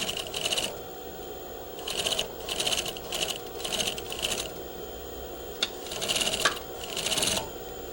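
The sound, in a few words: sewing machine stitching over shirring thread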